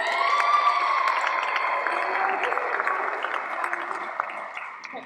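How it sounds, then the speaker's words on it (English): An audience applauds a volunteer at an event, a short round of clapping with some cheering and children's voices that stays fairly steady and fades slightly toward the end. "Let's give her a round of applause."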